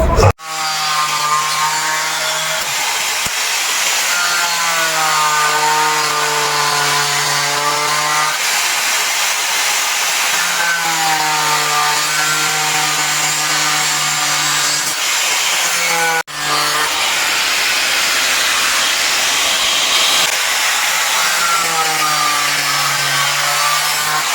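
A power tool cuts a round out of a coconut shell for a craft, a loud continuous whining buzz that rises and falls in pitch with each pass and pauses briefly between cuts.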